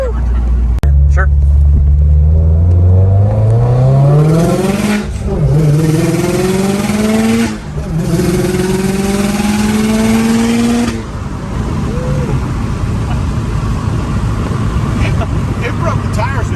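A BBR 500 package car revs hard and accelerates, the engine note climbing steadily in pitch over several seconds, then easing off, with loud wind and road rush throughout and people talking excitedly over it.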